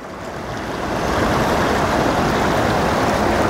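Water sloshes and swirls steadily in a gold pan during panning, a close, continuous broadband washing rush that swells slightly in the first second, then holds even, with no talk.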